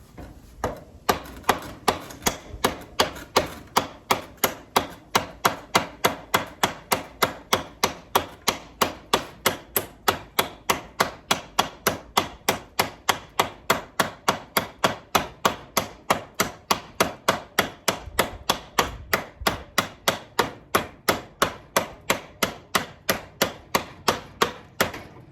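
A Wartech survival knife chops repeatedly into a hardwood door, producing a steady run of sharp, evenly spaced blade strikes, close and loud, roughly two to three per second throughout with no talking.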